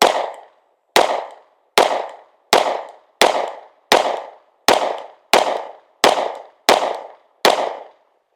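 Eleven pistol shots from a Sig P365x Macro Comp at a shooting range, sharp loud cracks evenly spaced about a second apart, each with a short decaying tail, close by and with no talking.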